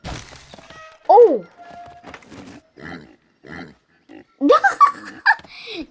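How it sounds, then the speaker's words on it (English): A pig in LEGO Jurassic World gives loud squealing oinks, one sharp squeal early and then a burst of rapid grunts and squeals, with a person talking in between. "Right here. The pig!"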